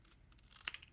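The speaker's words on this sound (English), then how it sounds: "I'm just going to grab a little pair of scissors here, and I'm just going to cut this and just trim it" Small scissors snip and trim a piece of paper for a handmade card, giving a short, quiet cluster of close crisp cuts with a light crinkle at the end.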